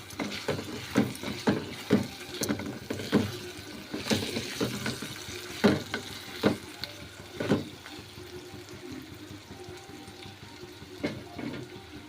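Ginger garlic paste fries in a hot pan for curry, giving off a busy, crackling sizzle. The sputtering comes in uneven bursts and stays fairly loud and close throughout, with no talking.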